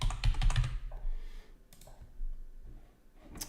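Quick bursts of typing on a computer keyboard, close and crisp, with a dense run of clicks at the start and a few scattered keystrokes after it, no talking.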